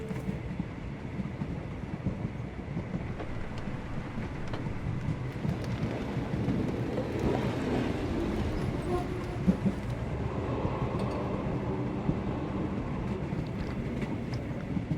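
A train in the video game Sherlock Holmes The Awakened gives a steady, loud rumbling roar that continues for the whole stretch without a break.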